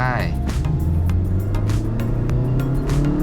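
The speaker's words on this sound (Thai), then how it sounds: "เร่งไปให้สุดครับ" A Mazda 2 accelerates hard on a dry test track, its engine note climbing loud and close over a few seconds, with a voice briefly heard near the start.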